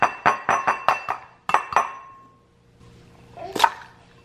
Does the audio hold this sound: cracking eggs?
yes